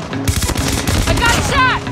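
Rapid gunfire from Call of Duty Mobile multiplayer, close and loud throughout, mixed with game voice callouts and effects.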